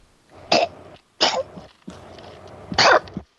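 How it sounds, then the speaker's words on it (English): Three harsh, rough coughs close to the microphone, evenly spaced with short pauses between them, sounding like a voice acting out a raspy cough. "He's coughing."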